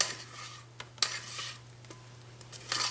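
Folded bourbon cake batter with chocolate and pecans being moved into a big mixing bowl, heard as scattered scrapes and light clinks of utensil against bowl at close range over a steady low hum.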